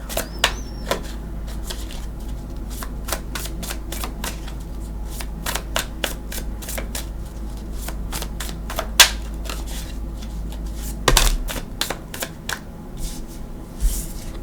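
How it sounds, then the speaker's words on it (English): Tarot cards are shuffled by hand in a run of crisp, sharp riffles and flicks, irregular and close, with a denser flurry of card snaps near the end and no talk. "Alright, I'm going to shuffle for your cards."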